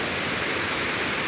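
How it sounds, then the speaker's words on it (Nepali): A waterfall near a village roars loud and close, a dense, unbroken rush of falling water with no voices over it. "गाइस यस्तो छ झरना हैन."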